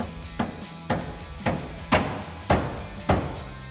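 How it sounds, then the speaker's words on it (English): Six sharp hammer blows flatten a relief-cut metal part for a Ford F150 lowering kit at an even pace, each a crisp, ringing knock against a quiet workshop background. "Now I'm going to take a hammer and just flatten her out."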